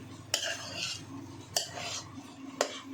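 A spoon mixing ground ginger and green chilli into sandwich masala in a bowl, three sharp clinks against the dish spaced about a second apart with soft scraping stirs between, close and without talk.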